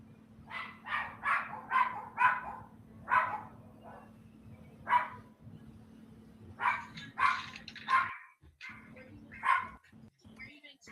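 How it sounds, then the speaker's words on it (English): Several dogs bark in repeated bursts, fairly close and loud, with a steady hum underneath and no talking. "Sorry, my dogs are loud, y'all."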